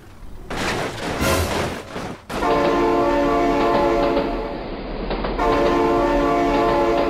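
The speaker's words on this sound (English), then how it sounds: "Oh my God, train!" In the BeamNG.drive driving game, a train clatters past loud and close, then a long, steady, multi-tone horn blares for several seconds, briefly breaking off and resuming.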